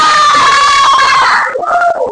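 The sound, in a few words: class of students shouting an answer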